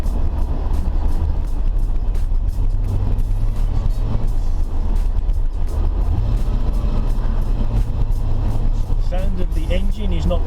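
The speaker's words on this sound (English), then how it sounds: "you can hear from the sound of the exhaust, it sounds really nice also" A 1964 Corvette Sting Ray's engine and exhaust rumble steadily from inside the moving car, a low continuous drone with road noise throughout, and someone talks over it.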